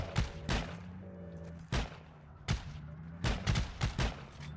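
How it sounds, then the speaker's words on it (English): Anti-aircraft gun in the Heroes & Generals game fires a few heavy booming shots at uneven intervals, with a low hum of battle in between. "Oh, it's the AA gun."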